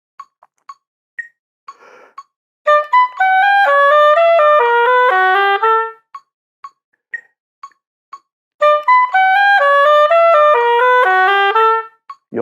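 An oboe plays an etude passage slowly at practice tempo, giving two long runs of sustained, clearly separated notes with metronome-like clicks ticking in the gaps between them.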